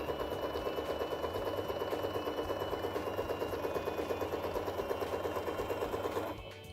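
A sewing machine stitching a fabric seam at 1 centimetre allowance makes a steady, rapid mechanical chatter that runs evenly for several seconds, then stops abruptly near the end.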